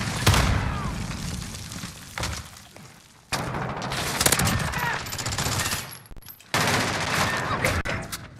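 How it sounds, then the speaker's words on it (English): Gunfire and blasts from a Modern Warfare Search and Destroy match, with a grenade going off among rapid weapon fire in dense, loud bursts, broken by brief near-silent gaps. "A grenade right inside."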